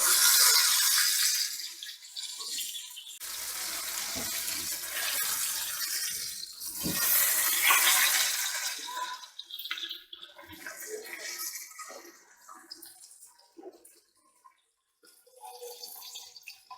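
Pomfret frying in a banana leaf for Kerala-style meen pollichathu gives off a steady, close, hissing sizzle. It is loudest at first and then eases into a softer, crackling fry.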